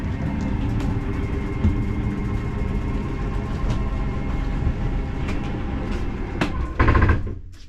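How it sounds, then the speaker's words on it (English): RV slide-out mechanism on a 2016 Palomino Solaire 267BHSE camper retracting: a loud, steady mechanical rumble and whir with occasional clicks, ending in a brief louder clunk as it locks in. "That noise is just a mechanism telling you that it's in."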